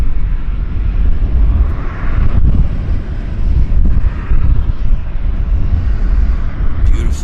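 An Embraer jet airliner's engines roar loudly and continuously at Vancouver airport, a broad steady rumble mixed with wind gusts against the microphone.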